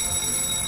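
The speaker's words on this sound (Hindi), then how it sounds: "अगर आपको इस तरह का आपातकालीन अलार्म" An emergency fire alarm sounds as a steady, shrill electronic tone, continuous and even for a brief moment with no break.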